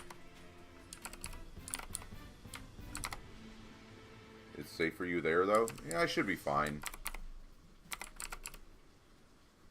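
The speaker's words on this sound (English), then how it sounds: "it's sensitive to my keyboard because these Razer keyboards are just like miniature typewriters" Keys on a Razer computer keyboard clack in quick bursts of typing, crisp and close, continuing beneath a short exchange between two voices.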